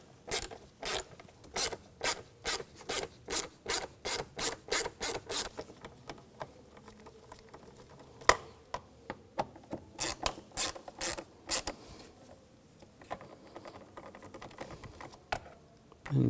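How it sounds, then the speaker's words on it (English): Loosening the air box screws on a 2011-2018 Volkswagen Jetta 2.0L with a T25 socket ratchet: repeated quick clicking bursts in a steady rhythm, pausing briefly, then more clicking runs, close and fairly quiet. "Loosen up these screws."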